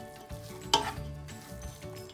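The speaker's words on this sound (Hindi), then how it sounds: "इसको मैं 1 मिनट और अच्छी तरह से भून लूँगी।" Almonds and milk powder roasting in a pan for carrot halwa, a light sizzle with one bright metallic spoon clink against the pan and soft stirring scrapes, close and unaccompanied by speech.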